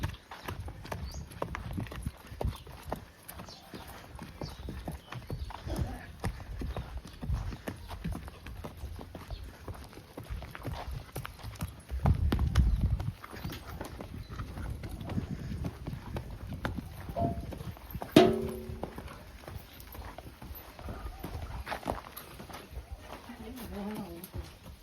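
A well-bred Gujarati horse of the Devli line clip-clops along a village ground, hooves beating a steady walking rhythm at mid distance, while people talk over it and birds call faintly.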